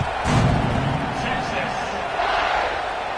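A stadium crowd roars and cheers during a kickoff in College Football 25, a broad, steady wash of noise beneath a commentator's voice.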